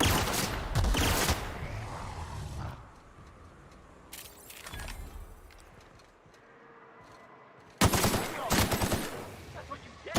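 Gunfire from weapons in the video game The Outer Worlds: loud rapid automatic bursts open the scene, a few scattered shots follow in a quieter stretch, then another heavy burst of fire near the end.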